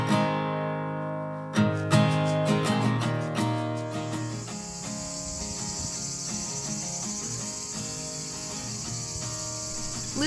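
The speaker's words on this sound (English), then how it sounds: "Listen to the ever-present sound of the cicadas" Cicadas in the Greek countryside near Koroni keep up a steady, dense high buzz for the whole stretch. Rhythmic plucked tones and musical notes sound underneath it, and there is no talking.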